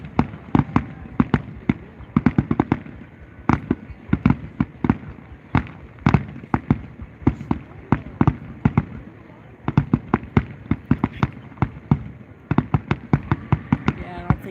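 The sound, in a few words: fireworks finale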